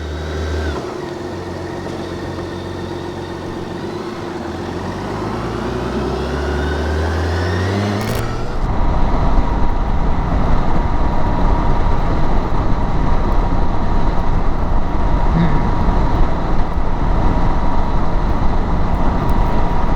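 A new GTL motorbike on an Irish motorway near Mitchelstown, engine revving through rising gear changes before settling into a loud, steady wind-blasted roar at cruising speed.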